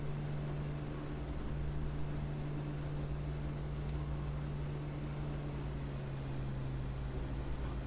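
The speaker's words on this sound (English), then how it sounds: "I've just brought back my prop pitch so you heard the engine revs drop." Propeller aircraft engine in a DCS flight simulator, revs dropping after a prop pitch change, a steady low droning hum with a strong tonal line, continuous and even throughout with no talk.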